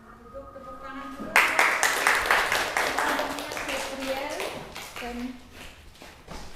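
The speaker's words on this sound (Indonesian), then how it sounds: "tepuk tangan dulu" A classroom of students claps for a classmate: a burst of scattered hand claps starts about a second in and runs several seconds, mixed with teacher and student voices, and a voice returns as the clapping dies away.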